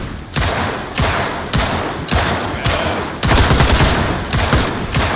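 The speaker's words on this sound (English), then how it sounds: "I'm just shooting." Gunfire in Project Zomboid, a rapid series of loud, sharp shots in bursts roughly every half second, continuing steadily without pause and close up.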